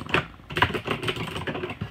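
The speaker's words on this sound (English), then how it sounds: "This is going to be my new gaming keyboard. The Razer keyboard." Typing on a Razer gaming keyboard gives close, steady clusters of key clicks and clacks with an irregular rhythm and no talking.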